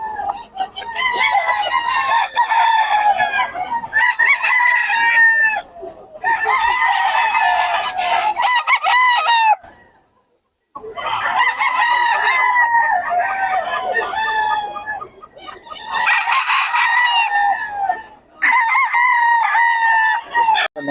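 Several seller's roosters crow in repeated long, loud calls close by, one bout following another with short pauses and a near-silent gap midway, clucking mixed in and no talk.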